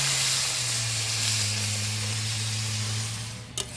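Spiced small potatoes sizzle hard in a pan after water is poured in, a loud steady hiss with a low hum beneath, then a brief clatter near the end.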